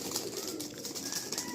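Pigeons held for sale coo in soft, low, repeated rolling calls close by, with faint chirps and rustling in the background.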